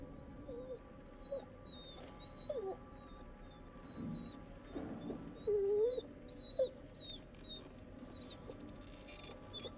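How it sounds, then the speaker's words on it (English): A dog whimpering in the horror video game The Devil in Me makes soft, scattered high whines over a quiet ambient background, faint and spaced across the clip. "it's a dog. Like, whimpering."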